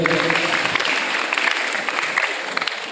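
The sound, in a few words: audience applause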